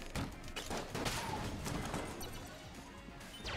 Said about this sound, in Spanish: Patada al barril y disparo.